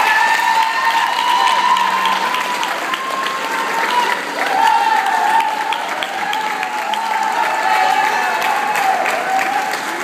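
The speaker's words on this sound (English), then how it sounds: "Et applaudissements s'il vous plaît pour Monsieur Gaylord" Steady, loud audience applause for a performer after an acoustic cover, continuous for the whole stretch, with a sustained held tone running beneath the clapping.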